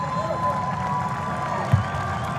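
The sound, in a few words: crowd applauding at basketball game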